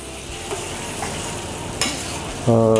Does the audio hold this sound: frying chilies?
yes